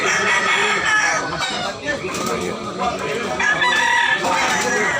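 Japanese bull stag gamefowl crowing among clucking fowl in a farm setting, several loud crows rising over continuous background chatter, with people talking throughout.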